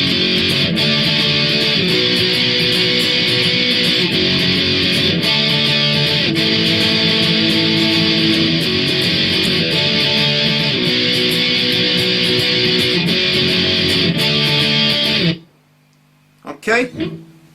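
Distorted electric guitar plays a chorus pattern of driving, steady power chords, loud and close for about fifteen seconds, then stops abruptly, followed by a brief voice.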